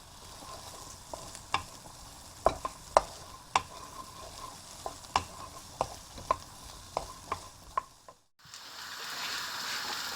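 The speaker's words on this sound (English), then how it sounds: "I'm going to fry them onions now until they are starting to brown" Onions frying in a pan give a soft continuous sizzle punctuated by a regular series of sharp spoon clicks and scrapes. A brief hush near the end gives way to a louder, fuller sizzle.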